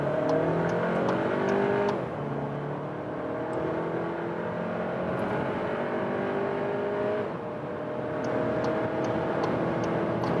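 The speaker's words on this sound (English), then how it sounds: "So we start from about 40 kilometers an hour and let's go." A compact SUV accelerates hard from about 40 km/h, its engine climbing in pitch through the gears with brief dips at each shift, steady cabin-level loudness, no talking.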